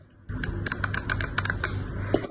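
Buttons on a Rapoo M100 Silent computer mouse are pressed in a quick run of soft, muted clicks, close up and fairly quiet, about a dozen presses in rapid, uneven rhythm.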